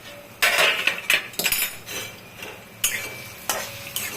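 Onions frying in oil in a pan for goat liver chorchori, heard as an ongoing sizzle punctuated by loud, irregular clinks and scrapes of a metal spatula against the pan, with no one talking.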